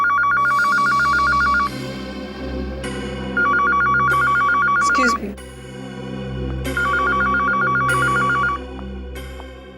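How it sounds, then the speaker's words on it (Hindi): A telephone bell rings loud and close in a TV crime-drama scene, sounding in three separate bursts of rapid trilling with short pauses between, while a brief spoken phrase comes in partway through. "ये फोन की घंटी बिल्कुल सही टाइम पर बजी"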